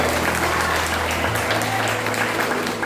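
A church congregation applauds during a Sunday evening service, a broad continuous roar of clapping and crowd noise over a low sustained hum, loud and even throughout.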